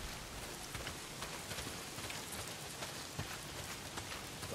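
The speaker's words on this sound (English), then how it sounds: "Well, not if it's pissing down rain." Steady heavy rain in the video game Days Gone, a dense even hiss of drops hitting surfaces, close and constant with no talk.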